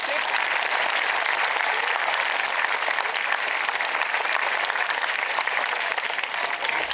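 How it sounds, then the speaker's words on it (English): Loud, continuous audience applause for teachers at a Children's Day school event, dense clapping filling the hall evenly throughout with faint crowd voices beneath. "Huge round of applause for them."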